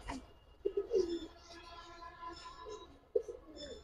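Mujala pigeons, a pair of Giribaz birds, softly cooing nearby in a couple of low warbling bursts with faint background chatter.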